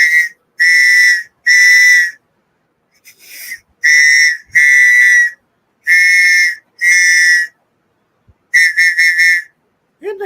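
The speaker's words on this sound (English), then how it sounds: "I could put my hand over it and make a different whistle." A shrill survival whistle blown in a series of short and longer blasts with pauses between, loud and close, the pitch shifting slightly partway through as a hand covers it.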